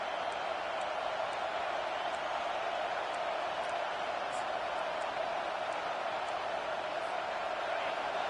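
Stadium crowd in the NCAA 25 football video game, a steady dense roar of cheering, broad and sustained at an even, moderate level throughout.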